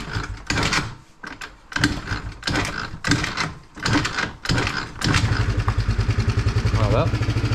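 A Yamaha scooter with a faulty electric starter is kick-started amid clunky mechanical clatter, then its small engine catches and idles in a loud, rapid, steady putter, with someone speaking French over the early part.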